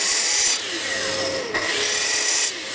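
A hand saw cutting a door rebate into the wood of an 1890 entrance gate: steady rasping strokes with brief pauses near the half-second and two-and-a-half-second marks, close and alone.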